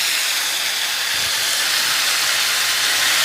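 Washed chicken pieces tumble into a pan of frying onions for Tamil pepper chicken, setting off a loud, steady sizzle that hisses continuously up close with no voices.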